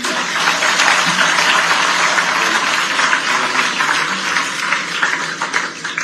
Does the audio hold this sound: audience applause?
yes